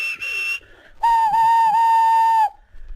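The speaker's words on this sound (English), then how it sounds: "The engines whistled and called out when they reached the cottage." Toy-train steam engine whistles on a children's railway around Christmas: a short high whistle blast, then a long sustained steady whistle lasting over a second, loud and clear with no talking.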